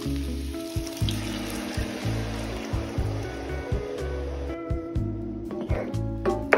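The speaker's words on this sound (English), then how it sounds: "We're gonna add some vegetable stock." Vegetable stock pours into a pot of shrimp and pork jambalaya that has been cooking for about 45 minutes, a steady rushing liquid sound running throughout at moderate level.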